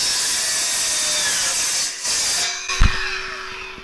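A welded steel saddle is cut off with a power tool, its grinding, whining cut running steadily for about two seconds, briefly pausing, then resuming with a sharp metallic clunk near the end.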